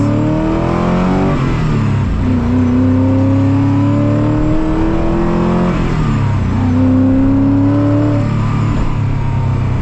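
Koenigsegg CCX supercar pulling away from a standstill and accelerating, its engine note rising through the revs with a gear change about a third of the way in before climbing again, loud and close throughout.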